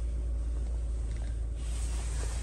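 A 2020 Lada Vesta sits with its engine running at idle, a steady low rumble with constant broadband hum and no other sounds.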